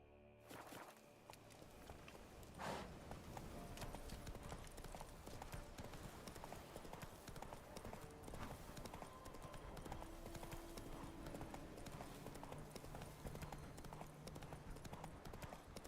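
Hooves of the horse Roach clip-clop steadily in The Witcher 3, a continuous rhythmic gallop with game ambience and music underneath throughout.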